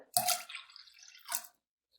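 A glass of water splashes into a bowl of paratha dough mixture with milk, sugar and flour, a short wet gush followed by a smaller splash, close and quiet with no talk.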